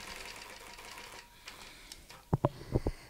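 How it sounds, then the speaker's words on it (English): Sewing machine backstitching a couple of stitches: faint whirring and clicking, then a short burst of four sharp, close mechanical thumps near the end. "So what I will do is just backtrack a couple of stitches."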